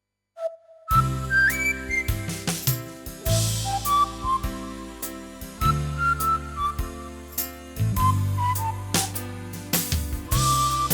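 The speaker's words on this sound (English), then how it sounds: "there's not a lot of songs where you can play the whistle" Whistle voice on a Yamaha Genos 2 arranger keyboard plays a bright, wavering melody line over a full swing backing arrangement of bass and chords, loud and continuous after a brief near-silent start.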